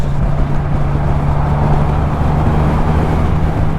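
Triumph Rocket 3R motorcycle riding on the road, a steady, loud, continuous engine drone with low rumble and rushing wind, unbroken throughout with no talk.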